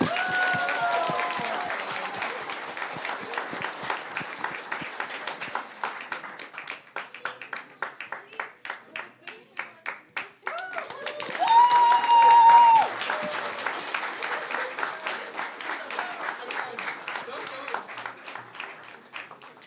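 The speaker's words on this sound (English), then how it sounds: "give another round of applause for them." Applause from a crowd at a business contest, sustained clapping that swells and fades in waves, with a brief tonal sound partway through and some voices mixed in.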